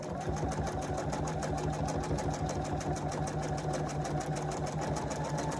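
A sewing machine stitching a quilt block runs steadily at a fast, even hum and rapid needle chatter, close and continuous with no talking.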